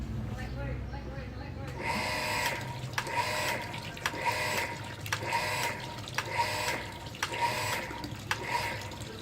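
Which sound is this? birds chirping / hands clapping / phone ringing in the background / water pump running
water pump running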